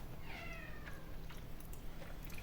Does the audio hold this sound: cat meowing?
yes